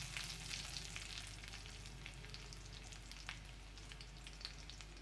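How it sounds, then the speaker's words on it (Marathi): Curry leaves and garlic fry in hot oil as a quiet, continuous crackling sizzle with small pops, close by and alone, over a faint low hum. "पहिले कढीपत्ता टाकते."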